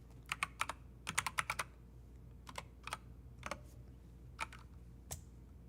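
Computer keyboard typing in short bursts of quick clicks, with clustered keystrokes separated by pauses, close and fairly faint over a low steady hum, with no voices.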